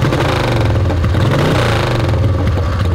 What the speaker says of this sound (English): Oh, it kicks nice. Three kicks. And then the ignition.